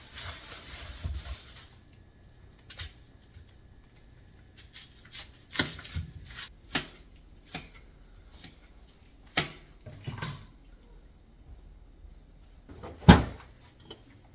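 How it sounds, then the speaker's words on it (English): Irregular, sharp knife taps chopping an onion on a cutting board, close by, with uneven pauses between strokes and no talking. "And then chopping my onion."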